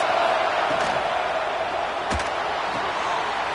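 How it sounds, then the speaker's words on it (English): A packed American football stadium crowd roars steadily to help the defense, a loud, continuous wash of voices with a sharp thud partway through. "Listen to this crowd just shaking the girders of this place, trying to help their defense."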